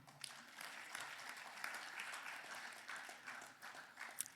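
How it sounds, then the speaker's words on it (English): A crowd at a university bust unveiling ceremony in Zaria applauds a professor with steady, fairly faint clapping that goes on evenly through the whole stretch, heard from a distance. "Please clap for him."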